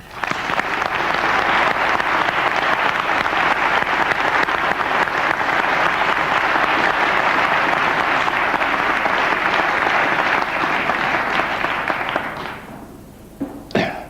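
A theatre audience at a 2003 season-opening event applauds steadily and loudly for about twelve seconds, a dense sustained clapping that then tapers off abruptly into a few scattered claps and quiet.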